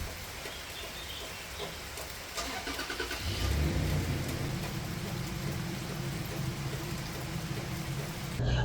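A pickup truck carrying a camper drives through rain in Minnesota, its engine rumbling low and steady under a hiss of rain and road wash, growing a bit louder as it gets moving.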